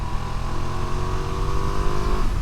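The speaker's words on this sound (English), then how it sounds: "There's a nice exhaust note from this as well. You get a good bark." Ducati Multistrada V2S 2025 motorcycle with a steady, loud engine and exhaust drone, held at a constant pitch throughout as if riding at even speed, with a slight shift near the end.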